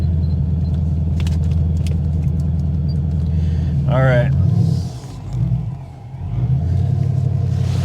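An old car's engine idling with a loud, steady low rumble and jangling keys, then revving and moving off, engine note rising and dipping as it is driven toward a driveway, with someone briefly talking over it.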